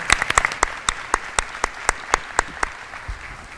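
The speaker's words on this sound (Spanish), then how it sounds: "le agradecemos a nuestros 3 oradores con un fuerte aplauso" An audience applauds three speakers at a talks event, a sparse, fairly close round of claps with distinct individual strikes that thins toward the end.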